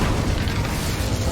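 Incendio fire spell cast in the Hogwarts Legacy video game, a dense loud burst of roaring, crackling fire that fills the whole moment without any voices.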